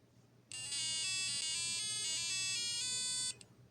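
A shrill micro:bit electronic buzzer plays a quick beeping melody of stepped tones for about three seconds, loud and close over a faint hum.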